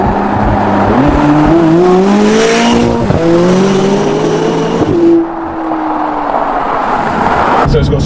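A McLaren 570GT turbocharged engine accelerates hard in manual sport mode, its loud rising revs climbing through gears with sharp shift breaks before settling into a lower cruising drone, close and dominant.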